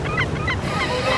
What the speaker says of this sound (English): Yep, birds in the background.